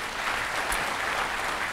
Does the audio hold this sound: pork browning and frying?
no